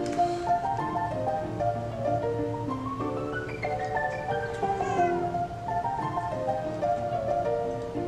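A cat meows repeatedly, drawn-out and rising and falling in pitch, close by, with music playing underneath.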